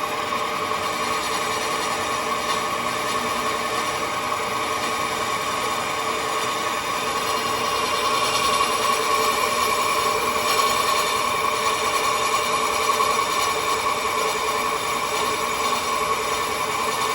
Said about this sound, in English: Let's put the boring tool a long way out of the tool post, just because it's got a long reach into the wheel.